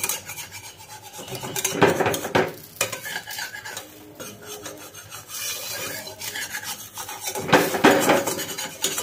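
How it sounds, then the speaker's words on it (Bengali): A spatula scrapes and rubs across a pan while lifting out a fried watermelon rind fritter, making rasping, stirring strokes with some faint sizzle, loud and close, in several bursts separated by brief lulls. "এখন আমি এই চাপড়টাকে তুলে নেব।"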